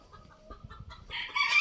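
Ispenç chickens cluck and call from nearby in a coop, softly at first and then louder and busier toward the end.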